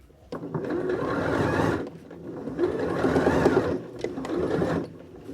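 A sewing machine stitches through a thick quilted reversible fall jacket in three close, loud bursts of rapid mechanical chatter, each lasting one to two seconds with short pauses between.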